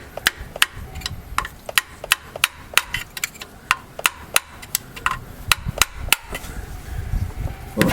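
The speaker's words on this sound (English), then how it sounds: "I'm just going to take this hammer on the lip here where it bolts on from the back side" Repeated sharp hammer taps on the lip of a 2004–2009 Mazda 3 transmission case near a bolt, struck from the back side to break the seal; about twenty close, metallic knocks in a steady, slightly uneven rhythm with no talk.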